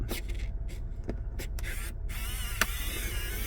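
A Bulletpoint phone and GoPro mount being unscrewed by hand, with a few short clicks and creaks over a steady hissing background, close by.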